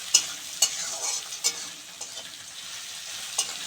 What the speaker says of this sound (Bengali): ভাজা হয়ে গেছে লাল লাল করে পেঁয়াজটা।